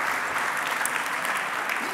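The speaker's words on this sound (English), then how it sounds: "ladies and gentlemen, please a big applause for Mrs. Olivera Injac." An audience at a European cities conference gives Mrs. Olivera Injac a sustained round of applause, dense and even clapping filling the room at steady volume.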